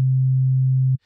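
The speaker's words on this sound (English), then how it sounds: "And right now, I have a sine wave." A pure synthesized sine wave tone from Bitwig Studio sounds as one clean, steady low hum for about a second, then cuts off abruptly, alone with no talking.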